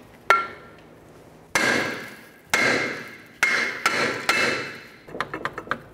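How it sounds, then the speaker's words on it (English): Several loud, ringing metallic hammer blows on a brake rotor of a Toyota Solara, struck one at a time with pauses between, followed by a quick burst of lighter taps. "Now let's move along to using our hammer."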